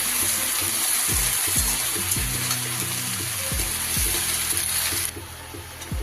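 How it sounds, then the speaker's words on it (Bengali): Bottle gourd leaves and vegetables being stirred in a hot pan, a constant sizzle of frying with repeated scraping knocks from the spatula, close and fairly loud. "ভালোভাবে শাকটাও আমি সব সবজির সাথে নেড়ে চেড়ে মিশিয়ে নিচ্ছি"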